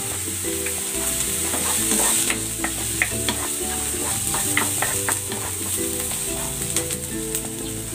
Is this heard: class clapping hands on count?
no